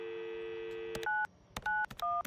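A phone in a game, Adios, being dialed: a held dial tone, then a short series of crisp DTMF key beeps with gaps between them, close and clear, with no talking.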